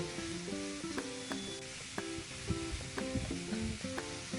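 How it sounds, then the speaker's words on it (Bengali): Snail curry being turned with a spatula in a pan, with soft clinks and scrapes against a faint, steady bubbling sizzle. "খুন্তি দিয়ে নেড়ে চেড়ে নিয়ে আবারও একটি ঢাকনা দিয়ে ঢাকা দিয়ে দেব"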